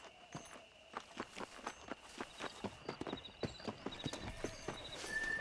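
Horse hooves clip-clop at a steady walking rhythm in Red Dead Redemption, crisp and fairly close, each hoofbeat distinct, with faint game ambience and no talk.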